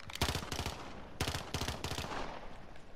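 Burst-fire pistol shots in a first-person shooter game, sounding as three quick, loud three-round bursts close together, followed by softer gunfire in the background.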